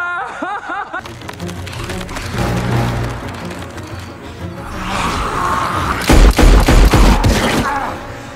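Gunfire erupts in a film scene, a loud burst of rapid shots and impacts under music and shouting voices, building to heavier booming blasts toward the end.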